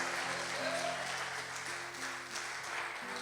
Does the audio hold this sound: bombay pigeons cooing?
no